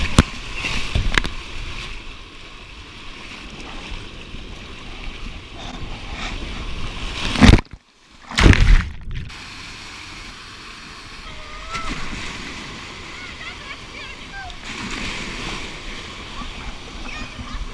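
Three kayaks move through open water: a continuous wash of splashing and lapping with wind noise, a few louder splashes near the middle and a brief dropout.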